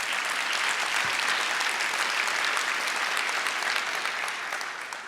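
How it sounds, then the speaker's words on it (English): Audience applause at a church service, a dense, continuous wash of clapping from a large crowd, steady and fairly distant, tapering slightly at the end. "Don't clap yet."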